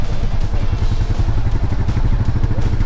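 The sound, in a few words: Royal Enfield Meteor 350 single-cylinder motorcycle engine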